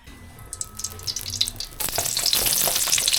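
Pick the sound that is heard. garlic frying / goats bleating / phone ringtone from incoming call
garlic frying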